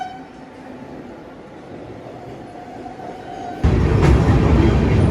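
A train arriving on the approach to Anand station, its rail rumble building steadily and then swelling into a loud, close roar of passing wagons.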